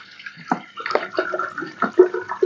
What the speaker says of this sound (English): I'll just pour it here and I'll pour water.